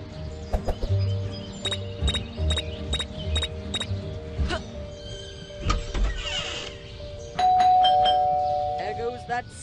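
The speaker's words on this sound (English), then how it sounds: "There goes that stupid bell again." A doorbell in the video game Scary Teacher 3D chimes in a quick run of repeated bright tones, then sounds again later with a sustained ring, loud and clear over game noise and brief voices.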